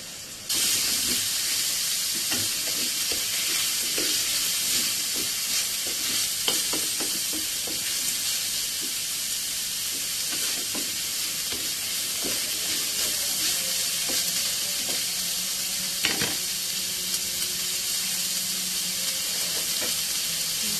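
Baguio beans and minced pork fry in a pan with a steady, dense sizzle and hiss, punctuated by occasional stirring scrapes and clicks close by, with no talk.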